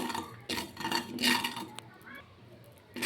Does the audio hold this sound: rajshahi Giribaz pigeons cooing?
no